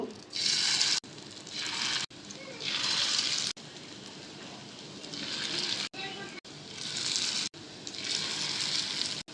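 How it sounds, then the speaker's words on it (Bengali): Prawn fritters frying in hot oil, a loud close sizzle that swells and drops in bursts as each piece goes in, with a few brief cuts between stretches. "তেল গরম হয়ে গেছে, আমি সুন্দর করে এক এক করে চিংড়ি মাছের বড়াগুলো দিয়ে দিব"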